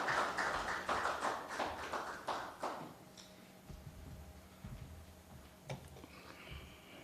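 Audience applause at a football league sponsorship unveiling ceremony, a dense burst of clapping for about three seconds that quickly thins out into a quiet room with a few scattered claps.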